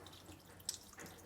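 Water running into a hot liquor tun as sparge water is readied on a home brew day for a honey ale, a faint trickle and splash with a brief brighter drip in the middle.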